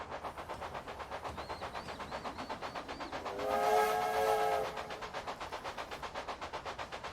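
A steam locomotive in the Railway Empire video game chuffs in a steady rhythmic beat, then sounds a loud, sustained whistle for about a second before the chugging carries on alone.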